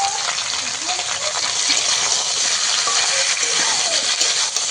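Green banana and potato fry with salt in a pan, giving a steady, close sizzle with light scraping and stirring throughout.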